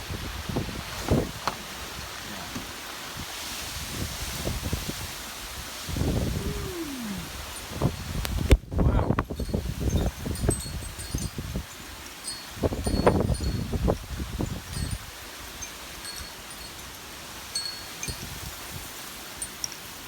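Wind gusts during a severe thunderstorm in April 2017 blow outdoors, rustling and buffeting the microphone in irregular surges, strongest in two bursts mid-clip, then easing back to a low, steady rush.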